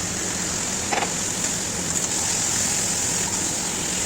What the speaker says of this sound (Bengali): পেঁয়াজগুলো হালকা করে ভেজে নিয়ে তার মধ্যে ম্যারিনেট করে রাখা মাংসটা ছেড়ে দেবে